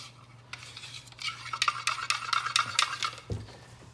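A tool scrapes around the walls of a cup of mixed paint, a quick run of clicky, scratchy strokes close by, ending in a soft bump, over a low steady hum.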